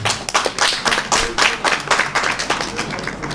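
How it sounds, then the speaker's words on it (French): Lively clapping from an audience at a Beninese political youth gathering, loud and close, with distinct irregular hand claps pulsing in quick bursts and a faint voice underneath. "applaudissez-le pour le message"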